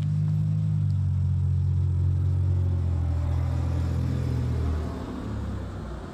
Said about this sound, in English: You got a few cars passed by here and there.